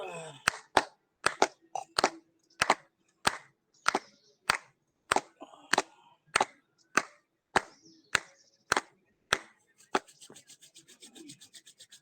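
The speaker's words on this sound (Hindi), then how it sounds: "आइए दुबे जी, तालियां बजा लेते हैं दुबे जी के लिए" A small online yoga class claps for a participant, with about fifteen sharp, evenly spaced claps standing out alone, followed near the end by a quicker, fainter patter of clapping.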